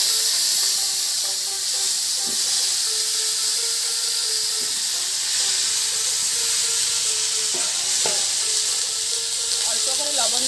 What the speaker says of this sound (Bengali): এঁচোড়ের টুকরোগুলোকে ভেজে নিচ্ছি।